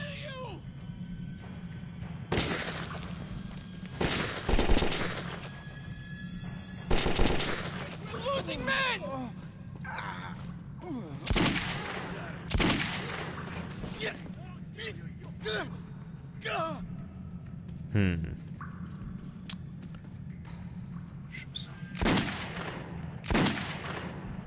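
Gunfire in the video game Metro 2033: loud, sharp shots arrive in scattered single bursts and short clusters throughout. They sound over a steady low hum, with someone talking in between.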